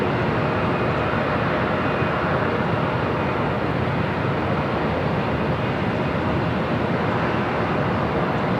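A Spirit Airlines A320 jet at LAX, a continuous broad engine roar that stays loud and steady throughout, with no voices.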